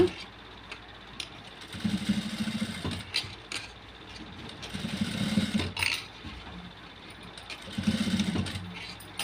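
A tailor's sewing machine stitches an embroidered blouse in three short motor runs, each a low steady hum that starts and stops, heard up close under background clatter and room noise.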